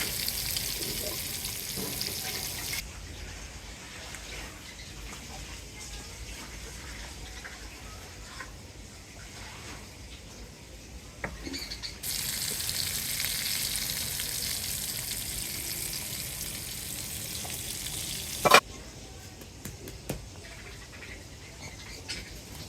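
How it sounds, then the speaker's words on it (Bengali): Spiced eggplant slices fry in hot oil in a kadai, a continuous crackling sizzle that swells and eases in waves, with an occasional utensil knock. "বেগুনগুলো মাখাই নিছি, এখন তেলে দিয়ে দিব।"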